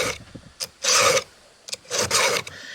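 A hand file rasping across a chainsaw chain while sharpening it, close and loud, in two sets of quick back-and-forth strokes with short pauses between.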